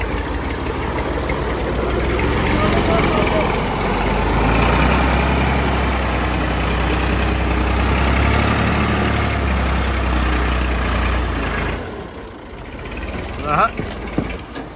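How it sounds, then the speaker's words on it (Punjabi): An old Massey Ferguson 240 tractor running in top gear, its diesel engine thrumming steadily and loudly with a low rumble for most of the stretch before dropping away near the end. "ਭਾਈ ਸਮੀਉਲਾ ਹੁਣ ਲਾ ਦਿਓ ਛੱਤ ਵਾਲਾ ਗੇਅਰ ਤੇ ਦੇਖੋ ਜਾਂਦੀ ਫਿਰ"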